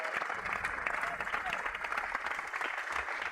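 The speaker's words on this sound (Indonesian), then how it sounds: "tepuk tangan dulu dong buat penelpon" A studio audience on an Indonesian TV show claps in a sustained burst of dense applause that holds at an even level throughout, with a host's voice talking over it.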